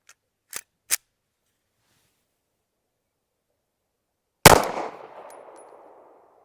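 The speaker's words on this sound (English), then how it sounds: "We're gonna do some more shooting with it right now." A single sharp pistol shot from a Caracal Enhanced F loaded with 115 grain ammo cracks loudly at an outdoor range, its echo decaying over a second or two, preceded by a few faint small clicks.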